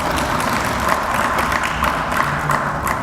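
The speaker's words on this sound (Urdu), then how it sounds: "ہم ان کی انکریجمنٹ کے لیے ہم بھرپور تالیاں بجائیں" Steady, dense applause from an audience honouring community workers at a climate change conference for parliamentarians in Pakistan, continuous and fairly loud throughout.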